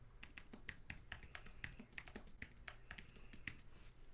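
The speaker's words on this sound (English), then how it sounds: "And as I'm typing, we'll see a preview over to the right." Steady, rapid typing on a computer keyboard, close and fairly quiet, with evenly spaced key clicks and no speech.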